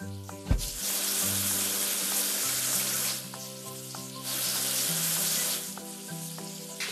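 Cartoon water spray washing a JCB crane, hissing bursts of spray that come and go over a simple synthetic melody, with no talking.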